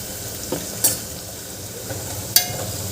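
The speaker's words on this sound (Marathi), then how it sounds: "मी छान कांदे शिजवून घेते" Onions frying in a pan with curry leaves, a soft steady sizzle broken by a few sharp clinks of a spoon against the pan.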